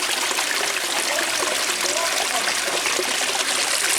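Spring-fed stream water flows and splashes steadily up close in a constant loud rushing hiss that fills the whole stretch, with voices faintly under it.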